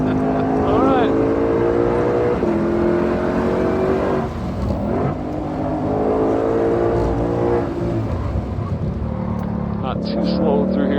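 A Shelby GT500 at speed on Ozarks International Raceway, heard from inside the car: a loud, continuous engine roar rising and falling through gear changes and corners, with voices talking over it.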